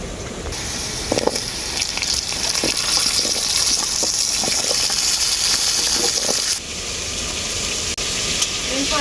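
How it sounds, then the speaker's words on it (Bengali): Pieces of hill pumpkin are dropped into a pan of frying potatoes, bringing a loud, continuous sizzle with scattered clinks and spatters, then a slight drop in the hiss toward the end. "এরপর এর মধ্যে দিয়ে দেব কুমড়ো"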